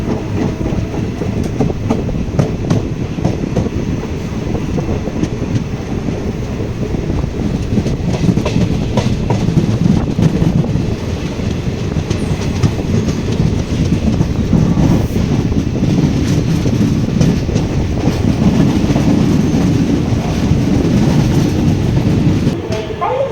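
A passenger train runs on the rails in India, a loud continuous rumble with rhythmic clatter of wheels filling the whole stretch, close and steady throughout.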